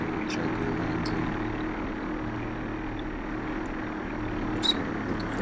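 The engine of a light aircraft in flight at low throttle, around 18%, makes a steady, even drone that fills the cabin with a continuous low hum and no breaks.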